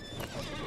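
Horse neighing in the online game LOTRO, a short whinny with a hint of hoof clip-clop, close and steady in level, with no talking over it.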